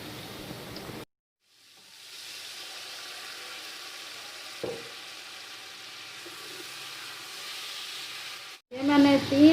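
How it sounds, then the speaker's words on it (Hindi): Steady broadband hiss of water sizzling as it is added to frying garlic in a hot pan, close and even, with a brief clatter near the end. "लहसुन भून चुका है। मैं इसके अंदर थोड़ा सा पानी डालूंगी।"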